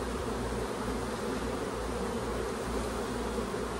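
Honey bees buzz densely and steadily during a hive inspection, a close, constant drone of many wings without pause.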